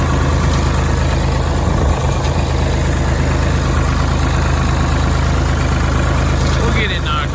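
A Farmall 1206 tractor engine idles loud and close, a steady heavy diesel rumble with a constant low drone running throughout and no breaks.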